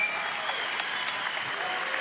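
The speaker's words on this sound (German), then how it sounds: "Ihr Applaus bitte" Dense crowd applause filling an arena at a heavyweight MMA event in Hannover, a loud continuous roar of clapping with a faint tonal hum running underneath.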